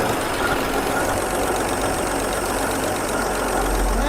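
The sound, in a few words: 1976 AMC Pacer engine running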